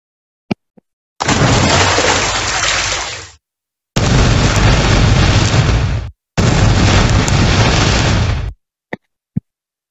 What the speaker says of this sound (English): a water splash that could sound like a fire explosion